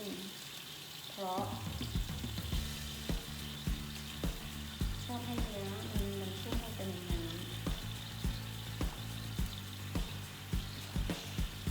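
Beef frying in a pan with water splashed in, a steady sizzle under repeated stirring and scraping, with a little speech mixed in.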